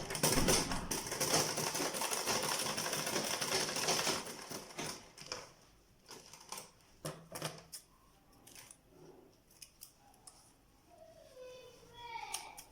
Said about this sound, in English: ensure that you stitch it backwards so that you will have a very close stitch there